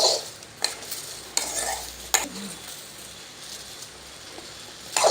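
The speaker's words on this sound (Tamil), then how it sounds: "வெறும் தாச்சியில் போட்டு காஞ்சது பிறகு இப்படி கிண்டி விடணும்" Okra tossed in a dry pan, stirred with a utensil that scrapes and clatters against the metal in a few sharp strokes amid a faint background sizzle; close and fairly quiet, with no talking.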